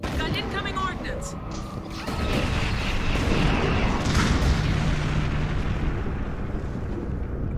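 Incoming ordnance explodes around a starship in the Star Trek Bridge Crew video game, heard as a steady roar of rumbling blasts and mechanical noise that swells and stays loud for several seconds.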